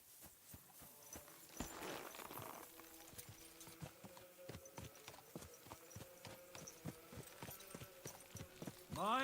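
Horse hooves clip-clopping in the video game Kingdom Come: Deliverance 2, a steady walking rhythm of sharp, fairly close hoofbeats over quiet ambience, with a faint voice-like sound near the end.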